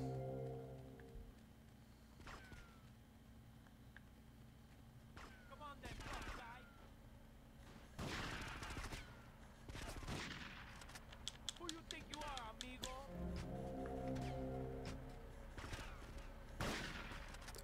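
Shotgun blasts in the video game GTA Vice City Remastered: several loud, booming shots spaced apart over game ambience and music, with a player talking between them.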